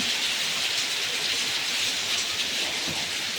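Torrential early rain with terrace water streaming down makes an unbroken, loud wash of noise that holds level throughout, no speech over it.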